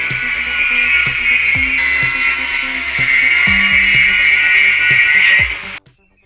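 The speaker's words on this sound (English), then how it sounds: "I'm gonna have to grind it off a little bit more" An angle grinder bites into metal square tubing while closing in the back of a bus, giving a steady, loud, high-pitched whine with faint knocking underneath that cuts off abruptly near the end.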